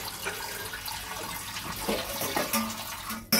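Water poured into a mustard paste with green chillies, a short splashing trickle that runs on for a few seconds, close and moderately loud, ending abruptly.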